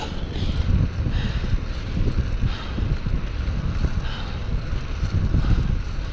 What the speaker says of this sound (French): Le vent est pas mal fort là.